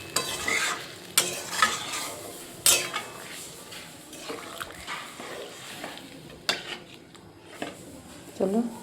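Meat curry being stirred and fried in a pot, with a steady sizzle broken by sharp clanks of a spoon scraping the pot at irregular intervals, close and moderately loud.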